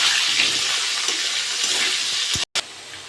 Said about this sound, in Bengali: লবণ দিয়ে দেবো, হলুদ দিয়ে দেবো, আলুটা ভালো করে ভেজে নেব।